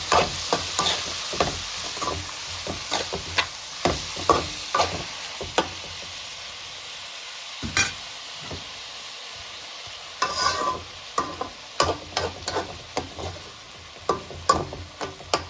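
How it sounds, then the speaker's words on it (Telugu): Chopped tomatoes are stirred into a hot frying pan of onions and egg curry, with steady sizzling and frying under repeated sharp scrapes and clinks of a spoon against the pan, sounding close. "ఇప్పుడు టమాటా వేసేసుకుందాం. ఇక ఒకసారి కలిపెడదాము."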